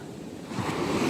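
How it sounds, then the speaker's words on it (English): Rough sea surf swells into a broad, rushing wash, building louder over a second with wind noise on the microphone and no voices. "The sea is rough."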